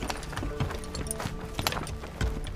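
Horses in the stables of a settlement in Assassin's Creed Valhalla clop their hooves in a steady, uneven patter over a busy ambient bed, with a faint neigh somewhere in the mix.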